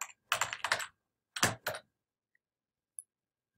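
Keys clatter on a computer keyboard in short close bursts: a quick run of several keystrokes, a pause, then two more taps and a faint final click, in otherwise quiet surroundings.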